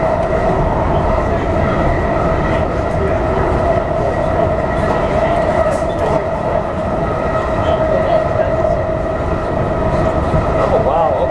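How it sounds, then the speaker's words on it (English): Interior of a moving train: constant loud rumble with a steady tonal hum and rattling, a voice speaking faintly beneath the noise. "As you see, I'm on the train right now."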